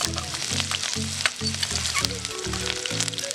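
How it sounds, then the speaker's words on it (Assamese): Chopped onions sizzle loudly in hot mustard oil over a wood fire, a dense, constant frying hiss close by, with a low rhythmic drone underneath. "মিঠাতেল গৰম হৈ গৈছে এতিয়া ইয়াতে দিম মই কাটি থোৱা পিয়াজ"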